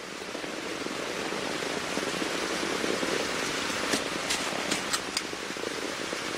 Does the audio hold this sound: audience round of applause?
no